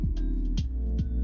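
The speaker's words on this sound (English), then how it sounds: "Every time I make a limit order, it'll make a sound like this." Robinhood trading app notification chime sounding on a limit order, three short tonal pings repeating at roughly half-second intervals, fairly clear with no talking.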